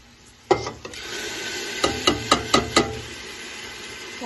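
Ginger-garlic paste hitting hot ghee with fried onions in a pot for chicken karahi, giving a loud initial sizzle, then a series of sharp spoon-scraping stirs over a continuous frying hiss.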